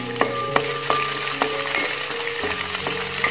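About 200 grams of finely chopped small onions fry with ginger and garlic for a Malayalam fish curry, giving a loud, constant sizzle close by, punctuated by regular sharp taps of a spatula on the pan.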